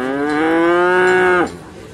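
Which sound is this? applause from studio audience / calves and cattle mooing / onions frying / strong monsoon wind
calves and cattle mooing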